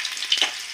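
Chopped onion dropped into hot oil in a home kitchen pan, giving a brief close sizzle with a soft hiss over a quiet background and no talk.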